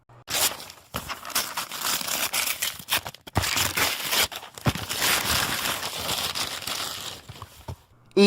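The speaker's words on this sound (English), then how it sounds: "He pulled the paper. The tearing sound was so loud." Paper crumpling and tearing at close range in several crinkly bursts broken by short pauses, with no voices.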